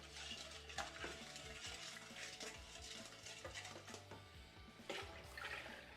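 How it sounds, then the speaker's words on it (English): A dark stout beer mixture with dissolving ingredients is stirred, giving a quiet swirling, sloshing liquid sound with a few soft clinks, continuous and close with no talking. "Give it a quick stir."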